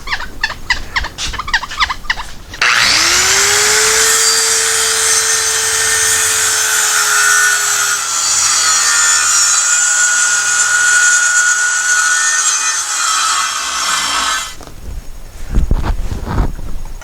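A power saw rips a sheet of half-inch pressure-treated plywood in half. It gives a loud, sustained whine for about twelve seconds after a short stretch of clatter, then winds down.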